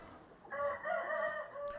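One rooster crows in a long, strained call on a poultry farm raising laying hens and giant Goliath chickens, close and fairly clear over quiet barnyard background.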